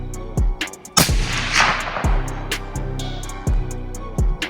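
A series of loud, close rifle shots from a 2025 hunting rifle with a 20-inch barrel, each crack followed by a booming echo, with one especially powerful blast near the start and regular shots after.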